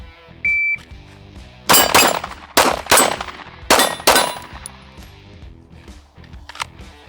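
Six pistol shots are fired at a target in an irregular series of sharp, loud cracks, with a short electronic beep just before the first shot and quiet gaps between bursts.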